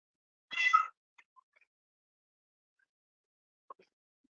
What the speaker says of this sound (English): So if you could hear a cat at the background, I do apologize.